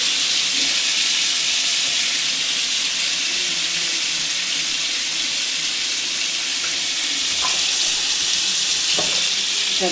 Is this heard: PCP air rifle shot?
no